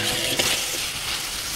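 Long beans and onion frying in a pan, a steady dense sizzle running the whole time with a brief stir or clatter near the start, close and even.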